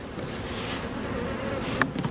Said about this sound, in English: That swarm's still in the tree. The scout bees over both of these.